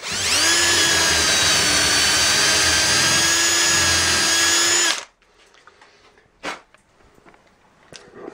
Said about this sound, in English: we drill first hole